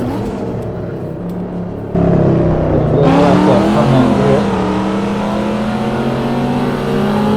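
1995 SVT Cobra R at speed on the Nürburgring Nordschleife, engine loud and close, note climbing and shifting as the car accelerates hard, with a sharp surge partway through and sustained high revs after.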